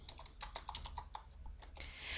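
Quiet, rapid clicking of a computer keyboard as a command is typed into the Aardwolf text game, irregular keystrokes over a steady low background hum, with no voices.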